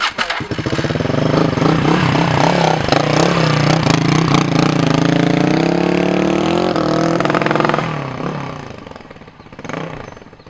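A motorcycle engine running loud and close, held at a steady roar for about eight seconds and then dropping away, with a short rev near the end.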